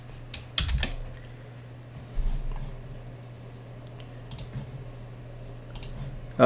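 Someone types a command on a computer keyboard, with scattered, close keystrokes and clicks tapping out at an uneven pace and no talking.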